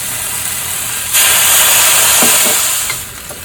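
Soy sauce and rice wine splashed into a hot pan while cooking braised pig's tail with black beans, bursting into a loud, steady sizzling hiss that fades slightly near the end.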